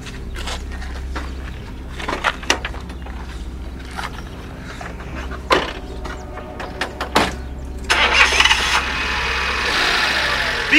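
A car engine idles with a low, steady rumble. Clicks and knocks break in, then a louder broadband roar rises near the end as the engine revs. Voices are heard in the background.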